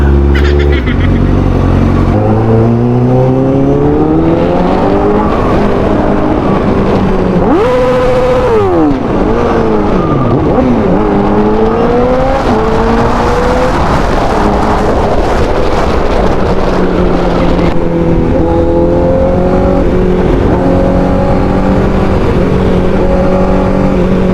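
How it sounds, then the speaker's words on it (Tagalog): Road traffic of cars and motorcycles heard up close, with a continuous engine drone that revs up and down in pitch through repeated accelerations and wind buffeting the microphone, while someone talks over it. "Traffic, traffic, traffic ngayong araw"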